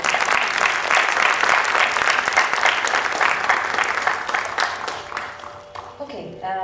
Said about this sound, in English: A round of applause, again, for Mr. Rajsekhar.